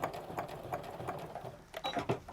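Sewing machine stitching and back stitching a crossbody sling bag, a quiet rapid mechanical patter in short bursts with a brief pause before it resumes.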